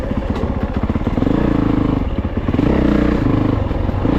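Honda CRF450RX dirt bike ridden on dry woods trails, a loud close engine roar that rises and pulses with throttle changes, with clattering from the terrain and no speech.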